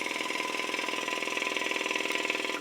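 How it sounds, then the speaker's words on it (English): A piston air pump for an airbed mattress runs steadily close by, giving a fast, even mechanical pulsing hum with rattly overtones until it cuts off at the end. "But this is a piston pump"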